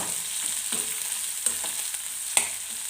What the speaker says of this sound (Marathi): मी कांदा टाकते आणि लसूण कांदा लालसर करून